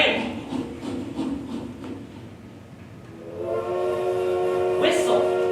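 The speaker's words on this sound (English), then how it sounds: "Train." A train rumbles past, then its horn sounds a sustained, blaring chord that holds to the end, fairly loud with voices in the background.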